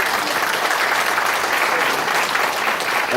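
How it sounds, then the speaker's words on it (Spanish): An audience at a conference on Parkinson's disease applauds a neurologist's talk, a dense, steady round of clapping that fills the room evenly from start to finish. "Vamos a dar un fuerte aplauso al doctor César Castañeda, neurólogo del Hospital Almenara"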